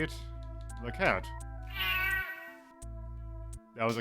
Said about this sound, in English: That was a cat in a very echoey room.